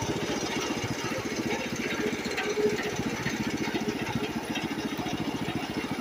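Small single-cylinder engine of a 1973 Wheel Horse 8 four-speed garden tractor running steadily, with a rapid, even low putter close to the microphone and no talking.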